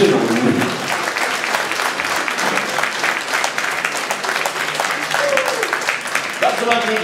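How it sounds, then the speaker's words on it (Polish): Audience at a blues festival concert in Suwałki, Poland, clapping along for the band: dense, steady applause from a large crowd across the whole stretch, with a short vocal sound rising over it near the end. "Bardzo ładnie idzie klaskanie"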